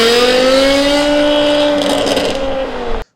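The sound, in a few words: V10 sports car engine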